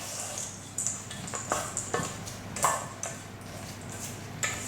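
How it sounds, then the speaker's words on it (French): A spoon stirring a granola bar mixture of cereal in a bowl, light clinking taps against the bowl repeating unevenly, close and fairly quiet. "Donc là, je vais mélanger"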